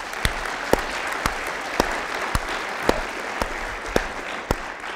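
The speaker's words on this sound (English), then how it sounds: "Let's give him another round of applause." A crowd claps at a water-protection talk. A steady rain of hands plays under about ten loud, evenly spaced sharp thumps that land roughly every half second.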